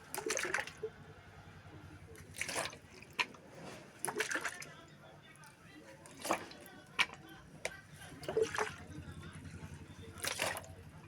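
Water is poured into the six cells of a motorcycle battery under repair, heard as short, faint trickles and splashes separated by quiet pauses.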